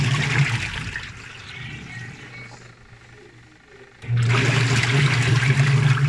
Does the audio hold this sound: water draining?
yes